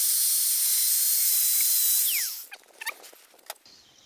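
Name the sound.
angle grinder cutting a slot in a broken bolt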